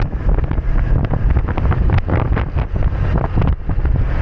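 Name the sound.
strong wind near the sea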